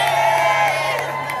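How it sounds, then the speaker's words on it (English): A crowd whoops and cheers wildly in a brief, dense burst of overlapping voices, loud and sustained throughout. "And the crowd goes wild."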